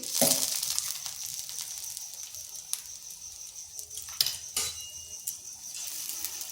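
Paratha frying in oil on a hot tawa griddle over medium heat, a soft steady sizzle with a few sharp clinks of a utensil against the pan.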